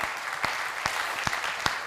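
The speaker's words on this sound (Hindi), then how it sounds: "मैंने कहा आप तालियां जितनी घनीभूत करेंगे मैं और आगे बढ़ूंगा।" A crowd claps steadily at a Hindi poetry recital on the Mahabharata, a dense, continuous patter with a few louder sharp claps standing out.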